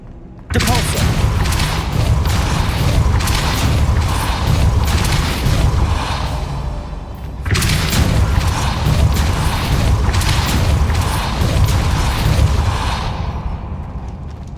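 A heavy stone rune-ring mechanism grinds and rumbles loudly in Hogwarts Legacy, two long, dense bursts of booming, clattering movement with a short pause between them.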